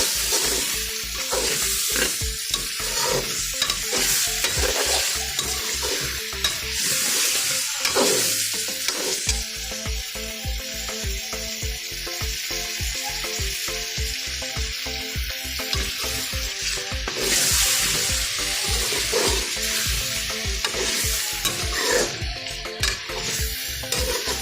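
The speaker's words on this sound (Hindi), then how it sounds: "इसी घी के अंदर हम इसको 2 से 3 मिनट तक फ्राई करेंगे" Onion and garlic frying in ghee for a chicken pulao, a steady loud sizzle throughout with rhythmic scraping and stirring of a spoon against the pot, no talking.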